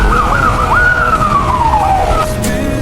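A wailing ambulance siren in a scary cartoon, sweeping up and down in pitch and loud, close and continuous over a busy background, ending in a short sharp burst.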